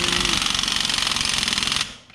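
Air hammer pounding during a lift kit install on a 1985 Chevy truck, a loud, rapid, steady rattle that runs close up for almost two seconds before cutting off.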